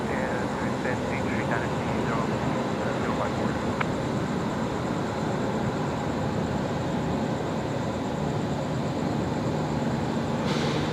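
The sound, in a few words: airplane at Brisbane Airport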